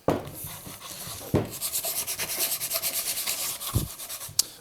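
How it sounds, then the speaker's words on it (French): Sandpaper rubbing over a wooden birdhouse during a final sanding pass, a steady rhythmic back-and-forth scraping stroke repeated many times, close and clear with a few knocks at the start and end. "On va repasser un dernier coup de ponçage sur l'intégralité du nichoir"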